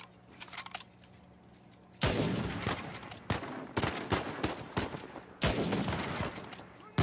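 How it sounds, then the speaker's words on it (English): Video game gunfire from Uncharted 4: a loud volley of shots bursts in at two seconds and keeps going with a second heavy burst near five and a half seconds, after a quieter stretch of faint shots with no talk. "did you just like take like six pot shots at that guy?"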